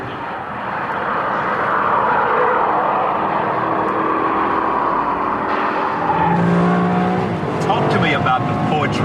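A Ferrari driven hard at around 145 mph on the marque's test track, its engine a steady loud roar with rising harmonic whine, under the broad rush of wind and cabin noise throughout.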